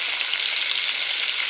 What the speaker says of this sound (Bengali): এই যে মাছ ভাজা বসানো হয়েছে। মাছ ভাজা হচ্ছে